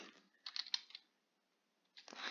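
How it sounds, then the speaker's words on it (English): Computer keyboard typing in quick bursts of crisp clicks, a pause of near silence, then another cluster of keystrokes ending on a firmer Enter press, close and fairly quiet. "type in snippet, and then hit enter"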